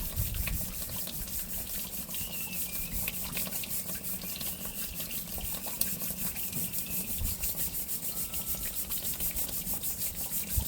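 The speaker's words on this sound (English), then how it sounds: "The stainless steel brush is definitely your friend here." Agate from the Polka Dot Agate Mine is scrubbed with a stainless steel brush in water, giving a steady, wet rhythmic rasping that carries on throughout at moderate volume.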